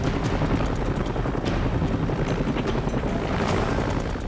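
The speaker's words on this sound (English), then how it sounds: "Lifting the patient to the helicopter requires a high hover, an essential but risky maneuver." Helicopter holding a high hover during a beach lifeguard rescue, its steady rotor chop and turbine roar filling the air loudly and continuously, close by, with no voices.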